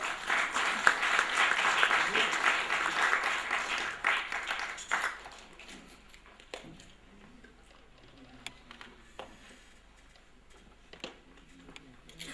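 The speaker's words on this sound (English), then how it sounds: "Dr. B.K. Chakravarti, let's give him a warm round of applause." A large audience at an award function in New Delhi breaks into steady, dense applause for about five seconds, then the clapping fades into scattered claps and low room murmur.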